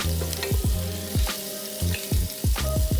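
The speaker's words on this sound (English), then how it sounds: "Once our oil is hot, we're gonna add crushed garlic and ginger." Crushed garlic and ginger hit hot oil in a pot and sizzle loudly up close, with a busy crackle broken by repeated sharp clatters of stirring.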